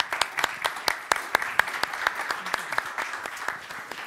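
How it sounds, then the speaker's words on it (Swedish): An audience at a panel event on green investment and bureaucracy gives a short, modest round of applause, distinct individual claps in an uneven rhythm, moderately near and fading slightly toward the end. "Jag tycker att ni kan få en applåd också"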